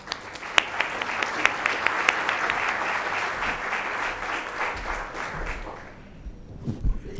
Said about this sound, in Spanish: Invito a darle un aplauso de bienvenida a Santiago Cueto.